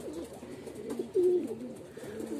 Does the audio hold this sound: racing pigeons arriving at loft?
yes